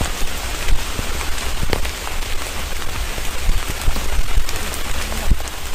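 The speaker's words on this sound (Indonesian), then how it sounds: "Rupanya hujan." Heavy rain pours at night onto a camping shelter, a loud, steady hiss of drops drumming on the surface with scattered sharper patters and no pauses, and no voices.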